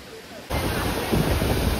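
At the top of Vyaghreshwar waterfall near Pen, a steady broadband roar of falling water starts abruptly after a quiet moment and continues loud and close, with some wind buffeting.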